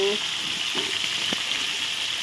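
Pieces of bhola fish fry in hot oil with a dense, even sizzle, close and continuous, with a couple of soft clicks as the fish is handled.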